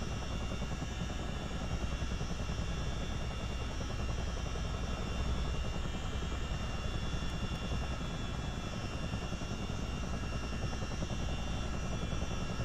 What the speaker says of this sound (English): get the helicopter airborne